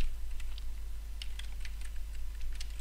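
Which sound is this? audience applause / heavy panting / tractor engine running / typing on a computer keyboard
typing on a computer keyboard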